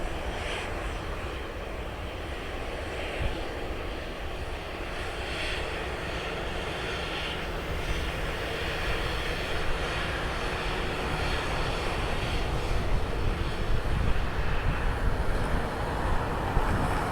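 A Delta airliner takes off at LAX, its jet engines producing a steady, loud roar that builds slightly over the whole stretch, with faint wind buffeting the microphone and no talking.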